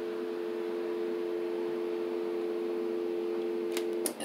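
A dial tone recreated on a Yamaha YPG-235 keyboard with a sine lead voice, sustained as a steady, even two-note hum at moderate level, ending in a couple of faint clicks.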